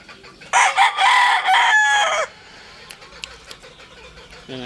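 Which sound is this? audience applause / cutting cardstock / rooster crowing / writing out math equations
rooster crowing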